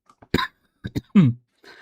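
A person who is sick gives a few short, sharp coughs close to the mic, with bursts spaced unevenly and quiet gaps between them, and no speech.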